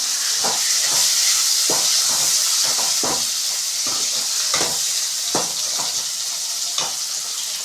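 Chopped tomatoes sizzle and fry in a pan for a Tamil dried fish curry, a steady loud hiss broken by repeated stirring scrapes, with no talking.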